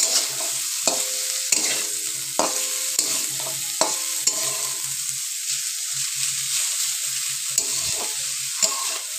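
Carrots seasoned with salt are stirred in a frying pan, with a spatula scraping and knocking against the pan in irregular strokes over a steady close sizzle.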